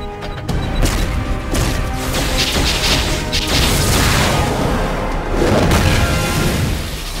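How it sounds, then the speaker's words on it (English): Heavy artillery strikes crash and boom through a DC Universe Online battle, with several loud impacts and whooshing debris over a busy, constant game soundscape and no talking. "Concentrate fire on Luthor while I call down some artillery."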